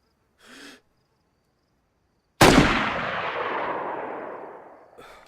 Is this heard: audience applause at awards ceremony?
no